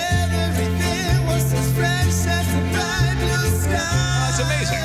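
A mariachi band plays a song, a loud, dense live mix of bright melodic instruments over a steady, stepping bass line, continuous throughout without talking.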